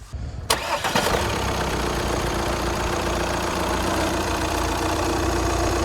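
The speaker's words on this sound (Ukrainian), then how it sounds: "Мотор такий єлі-єлі теплий, завівся в принципі бадьору." A lukewarm Audi A4 B8 allroad TDI/TFSI engine cranks briefly and catches, settling into a steady, loud idle close by with a slight ticking.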